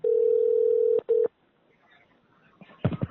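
A steady telephone tone on a bank call being transferred, one long beep for about a second followed by a short second beep, then near silence before a voice starts at the end.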